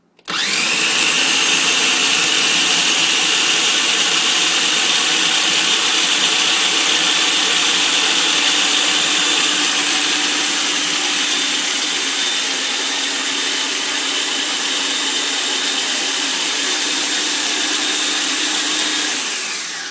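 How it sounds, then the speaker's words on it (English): A blender purees raw chile sauce ingredients including oregano, starting abruptly and running as a loud, steady high-pitched whir for nearly twenty seconds at close range before cutting off, with no voices. "Now I'm going to give them a nice little puree. It's going to get loud again, sorry."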